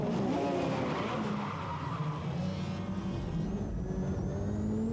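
Renault Maxi Mégane turbo four-wheel-drive rally car at a French rallycross round in Lunéville, heard as a loud, continuous engine roar with shifting revs and tyre skidding, close and constant throughout.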